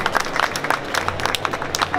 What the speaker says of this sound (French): Ah, des applaudissements nourris, s'il vous plaît